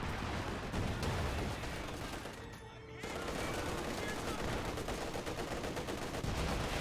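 Rapid gunfire and cannon shots from a Company of Heroes 2 battle on Mill Road, with an anti-tank gun among the weapons, the dense crackle dipping briefly before resuming, with a voice talking over it.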